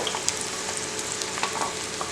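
Two lengthwise-sliced onions sautéing in coconut oil for a Kerala fish molee, giving a close, steady sizzle and crackle with small pops throughout and no voices.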